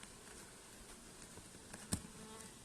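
Honeybees buzz around an open hive on a hot day while a beekeeper works it for the chestnut honey flow, a soft swarm drone with a few bees passing close and one brief knock.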